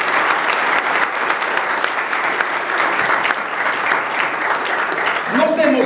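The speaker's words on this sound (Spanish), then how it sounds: "Denle un aplauso fuerte al Señor" A church congregation applauds loudly and steadily during a sermon on God being with us, dense clapping filling the room for several seconds, with a short tone or voice appearing near the end.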